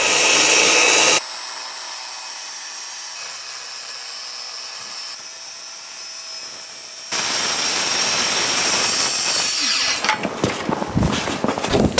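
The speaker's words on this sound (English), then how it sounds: "use our circular saw to cut the pieces that's going to make up the front and the back of the wooden backpack" A battery circular saw cuts through wood pieces in a workshop, loud bursts of high whining saw noise with a quieter stretch between cuts, no talking.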